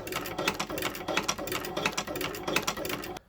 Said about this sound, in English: when I stitch in, I'll do 2 stitches